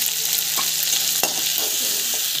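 Chana dal with turmeric powder is stir-fried in a pan, giving a constant close sizzle broken by a few sharp clicks of a spatula against the pan.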